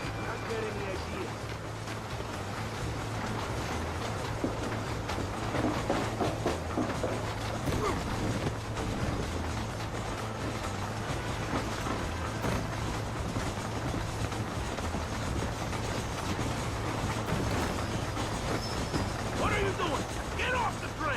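A train rumbling along in Red Dead Redemption, a steady dense roar of rolling wheels and rattling cars with a constant low engine drone, loud throughout with shouting voices over it.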